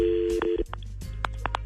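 A telephone dials a call: a steady tone at first, then a series of short, evenly spaced keypad beeps, heard close and clearly with no talking.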